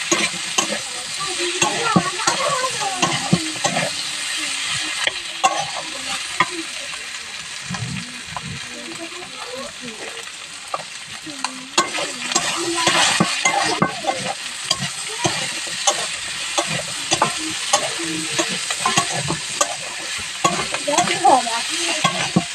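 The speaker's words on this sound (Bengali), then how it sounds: "এইভাবে আমি এতে ভেজে নেব।" Food frying in oil in a pan, browning until reddish, with steady sizzling and frequent stirring scrapes and clinks throughout, close and fairly loud, with no talk.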